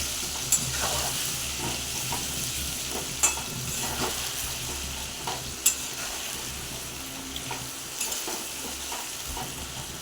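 Bay leaf, salt and turmeric sizzling in oil in a wok, a steady bright hiss with occasional sharp taps and stirring scrapes throughout.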